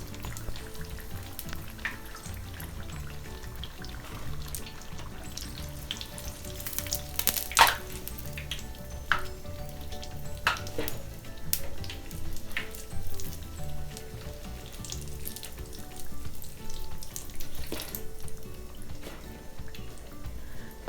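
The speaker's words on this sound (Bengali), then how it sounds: "তো বেগুনিগুলো ভাজা হয়ে গিয়েছে, এখন আমি উঠিয়ে নিচ্ছি, দেখেন কত সুন্দর ফুলে উঠেছে।" Beguni eggplant fritters fry in oil with a moderate bubbling sizzle, dotted with scattered pops, drips and occasional utensil clicks as they are lifted out.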